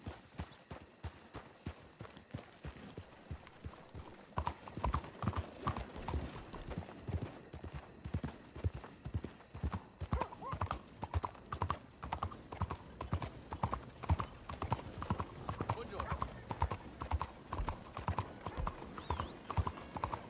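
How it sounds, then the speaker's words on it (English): Horse hooves clip-clop steadily in Red Dead Redemption 2, a quiet, sparse walking rhythm at first that turns into a denser, brisker trot of close, distinct hoofbeats with a faint whinny. "Gotta take care of that horse there."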